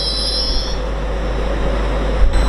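A Class 801 train pulls into a station on the East Coast Main Line with a loud, steady rumble and high wheel squeal that fades out, followed by a few clanks near the end.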